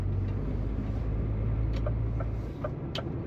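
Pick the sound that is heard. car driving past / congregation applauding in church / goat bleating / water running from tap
car driving past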